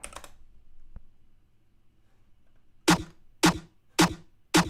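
Four sharp, separate keystrokes clack on a computer keyboard near the end, following a short tap and a quiet stretch, loud and close with no talking.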